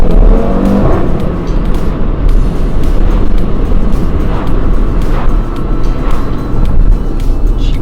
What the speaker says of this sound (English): Let's see what the car sounds like.